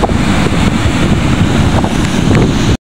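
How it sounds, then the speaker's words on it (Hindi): Sea waves and strong wind buffet a fishing boat out on the open sea, a steady loud roar of rushing air and water with heavy microphone wind noise throughout, cutting out briefly near the end. "ये लहरें"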